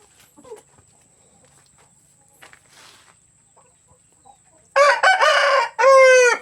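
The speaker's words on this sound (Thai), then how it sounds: "ไก่เนื้อลอกผสมนะครับ" Crossbred meat-breed roosters crow loudly and close on a farm, with clucking hens mixed in, after a few seconds of near silence with faint scattered noises.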